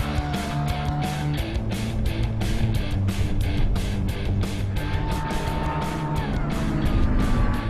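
A Suzuki Swift car runs a timed lap on a track. Its engine drones loudly and steadily close by, rising and dropping with repeated brief breaks from gear changes all the way through.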